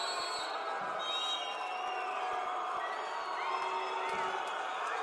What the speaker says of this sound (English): Foul's been called. The crowd don't like it.